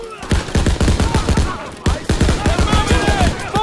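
Rapid bursts of rifle and machine-gun fire in a World War II battle scene from Call of Duty WWII, many sharp shots overlapping in a dense, close barrage with voices shouting underneath.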